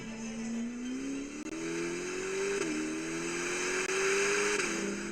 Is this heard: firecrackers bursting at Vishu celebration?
no